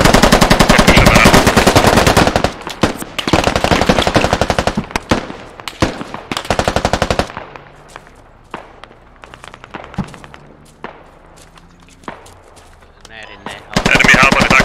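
Automatic and rapid gunfire in a military shooter game set in Afghanistan, US Army squad against insurgents: loud sustained bursts for the first seven seconds, then scattered sharper single shots and thuds at a distance, with another loud burst at the end.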